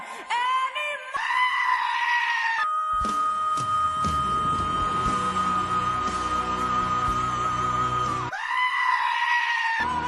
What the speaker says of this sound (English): That's a damn talented screaming GOAT.